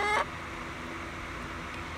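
Backyard chickens, standard laying hens, give a brief squawking cluck at the start, then only a steady outdoor background remains.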